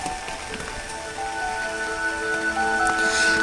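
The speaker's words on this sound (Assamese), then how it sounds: "এইকেইদিন খুব বৰষুণ দি আছে।" Steady rain falls outdoors in light, drizzly showers during a spell of wet weather, a continuous soft patter that grows slightly louder toward the end, with faint tonal hum in the background.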